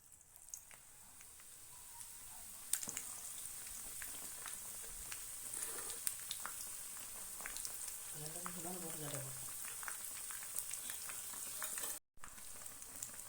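Vermicelli sizzles in hot oil in a home kitchen pan, a soft steady crackling hiss with occasional stirring clinks, while a voice speaks briefly in the background.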